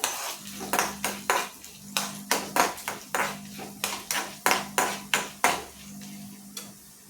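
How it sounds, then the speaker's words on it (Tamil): Urad and chana dal roasting in oil in a pan, marked by a rhythmic run of bright metallic clinks as a spatula strikes and scrapes the pan, about a dozen sharp hits over a low steady hum, close, no speech. "கொஞ்சம் நேரம் வறுத்துக்குவோம்."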